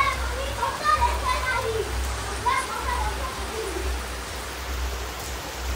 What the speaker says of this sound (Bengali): প্রচন্ড বৃষ্টি হচ্ছে। দেখো কি বৃষ্টি, আলাদা লেভেলের বৃষ্টি হচ্ছে।